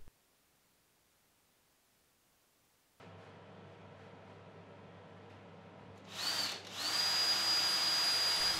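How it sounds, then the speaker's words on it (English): After silence, a large 4x8 CNC router's motor starts humming, then a high-pitched spindle whine rises and drills into 19 mm MDF with a steady grinding roar. "used the CNC to drill the holes to connect it to the beam"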